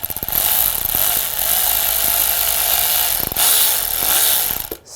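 Ratcheting clicks from tightening a hose clamp on the coolant line of a 2006-2009 Audi S4, a dense, steady run of mechanical clicking that sounds close by for several seconds and then stops abruptly.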